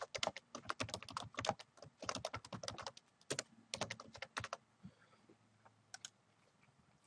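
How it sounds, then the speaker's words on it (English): Computer keyboard typing in quick bursts of crisp clicking keystrokes with short pauses between, close and clear, tapering to a few scattered key presses near the end. "If I type an address in,"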